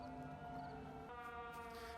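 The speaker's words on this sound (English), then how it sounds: "So, the siren is actually coming from the top of that windmill," A civil defense siren mounted atop a windmill in the game Everybody's Gone to the Rapture wails steadily at a distance, a sustained tonal drone that shifts pitch partway through, faint and alone.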